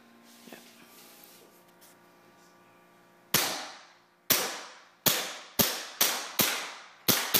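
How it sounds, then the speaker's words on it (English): Tokyo Marui Glock 17 airsoft pistol, propane-charged, firing a string of sharp cracking shots close by, each with a short decaying ring, spaced about a second apart after a quiet lead-in of handling noise. "Alright, so we're doing a shooting test on the Glock 17."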